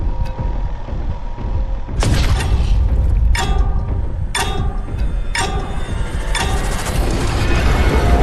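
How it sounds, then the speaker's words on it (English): Frag grenade blasts in Warhammer 40K: Boltgun, several sharp booming explosions going off one after another at roughly one-second intervals over a constant layer of game noise, with no talk. "that's the frag grenade"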